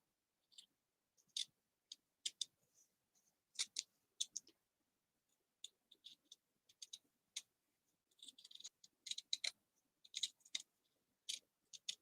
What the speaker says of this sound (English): I wonder if my new tonic scissors will work because these things stink.